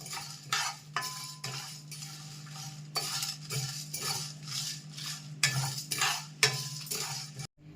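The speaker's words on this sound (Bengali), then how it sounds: "সামান্য একটু নাড়া দিয়ে নিয়েছি।" A metal spoon stirs chana dal frying in a pan, with repeated scraping and clinking strokes in an uneven rhythm over a low steady hum, close and fairly quiet, with no talk.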